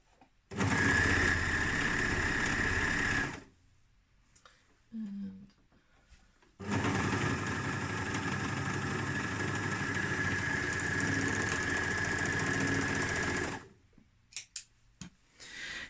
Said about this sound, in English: Sometimes when you're serging on your overlocker